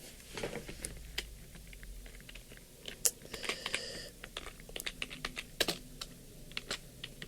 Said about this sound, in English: So I'm just typing up here just so I can see what I'm talking about.